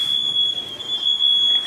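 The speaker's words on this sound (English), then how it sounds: "the fire alarm was coming from somewhere else, but it's actually coming from inside of our own apartment." A smoke alarm in an apartment sounds off with a steady, piercing high-pitched tone held continuously, loud and near, over a faint low background rumble.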